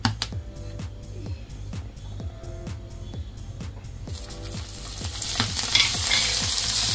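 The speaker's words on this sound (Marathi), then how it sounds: "आता यामध्ये आपण थोडं तेल टाकायचं।" Oil goes into a pan of frying green chillies, and a busy crackle rises into a louder, steady sizzle, punctuated by regular clacks of a spatula stirring and scraping the pan.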